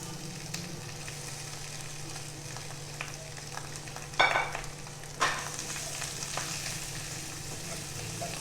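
Bell peppers in two colours, mushrooms and cauliflower stir-fry in a pan with a steady close sizzle. Sharper clatters of stirring come through near the middle, and no one talks.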